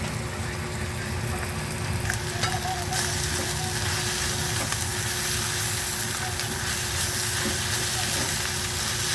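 Bitter gourd with egg, tomato, onion and garlic sautéing in a pan, giving a steady, close, continuous frying sizzle throughout with faint stirring scrapes and no talk.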